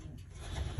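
Grizzle pigeons in a loft give soft, low cooing close by, a short murmuring burst that swells toward the end over quiet background rustle.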